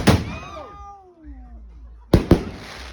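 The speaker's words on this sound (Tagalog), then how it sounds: "Ayun, nag-fireworks. Ang lakas naman yun." Loud fireworks at an outdoor New Year celebration: two sharp bursts land near the end, after a stretch of descending whistle-like tones and a cat-like cry, with voices in the background.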